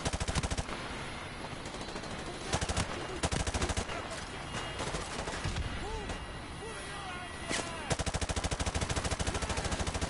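Automatic gunfire bursts from a weapon in the video game Modern Warfare 2 Remastered, loud rapid volleys separated by short pauses, with a voice talking between the shots.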